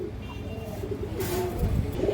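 A domestic pigeon, an old-line bird with stone-colored eyes, coos softly in a low, rolling murmur against steady background noise.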